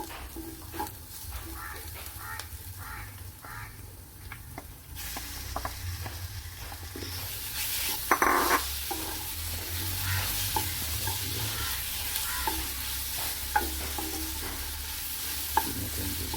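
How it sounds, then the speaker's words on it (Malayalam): Shrimp and onions sizzle loudly in a pan while a spatula stirs and scrapes repeatedly, the frying swelling louder partway through. "സവാള നന്നായിട്ട് വഴന്നു ഇനി നമുക്ക് ഇതിലേക്ക് ചെമ്മീൻ ഇടാം"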